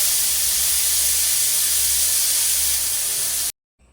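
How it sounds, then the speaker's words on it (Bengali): A whole dry red chilli and black cumin sizzle in hot oil, giving a loud, steady, close hiss that runs without talk for about three and a half seconds and then cuts off abruptly. "এরপরে আমি একটা গোটা শুকনো লঙ্কা কালো জিরা দেব।"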